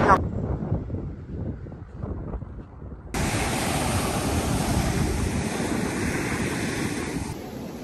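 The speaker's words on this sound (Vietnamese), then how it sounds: "sóng đánh rất là mạnh." Strong ocean surf crashes on a beach near Quy Nhon, Vietnam, making a steady, loud roar. Gusts of wind buffet the microphone throughout.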